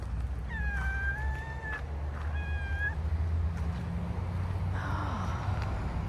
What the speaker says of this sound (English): My first little kitty.